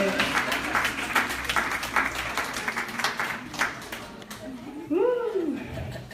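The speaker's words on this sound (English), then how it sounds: "So let's give them a round of applause." Audience at an African ancestry reveal event in Baltimore breaks into sustained applause with scattered cheers, dense clapping filling the room before tapering off as a voice whoops over it.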